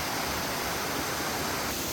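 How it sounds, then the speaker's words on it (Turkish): A waterfall at Yedigöller, Bolu, flowing downward: a dense, steady rushing roar of falling water, loud and unbroken, with no voices. "Şöyle aşağıya doğru bir şelale akıyor"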